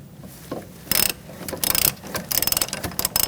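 A ratchet loosens the sway bar link nut on a 2008-2014 Mercedes-Benz C300, held in place with locking pliers. Several bursts of close, loud, rapid clicking come with brief pauses between them.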